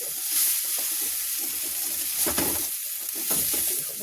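A spoon stirs a fasting-style potato and coriander sabzi, cooked without chilli or turmeric, in a hot pan, with steady sizzling and soft scraping strokes close by.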